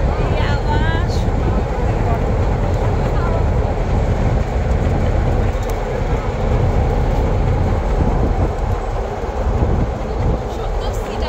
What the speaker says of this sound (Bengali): যমুনা রেল ব্রিজের উপর দিয়ে ট্রেন চলে যাচ্ছে